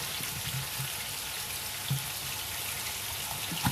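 Chicken fajita pieces fry in a pan with a steady, soft sizzle and crackle, faint and continuous, with a few small pops scattered throughout.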